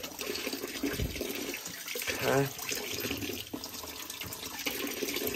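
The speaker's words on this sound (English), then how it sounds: "Let's just run some water through it." Water runs and splashes through a steam boiler's gauge glass in a workshop, a steady tap-like flow with a brief louder gush in the middle; someone speaks a word over it.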